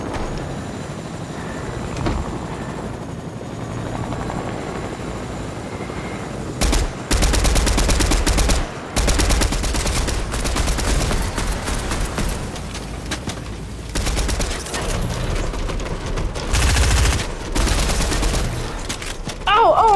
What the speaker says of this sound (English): I'll shoot through the helicopter.